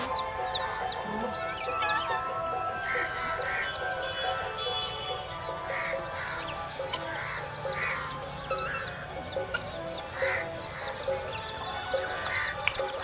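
Chickens cluck and chatter continuously in a farmyard, with overlapping short calls and occasional louder squawks over a low background hum, close and steady without talk.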